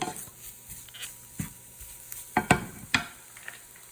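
Onions frying in a pan, with paprika added, give a soft, low sizzle broken by intermittent scraping stirs and light clinks of a utensil against the pan, close and fairly quiet.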